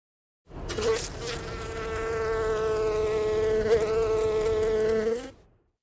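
A single bee buzzes close by in a steady, sustained drone that holds for about five seconds before cutting off, alone with no talk.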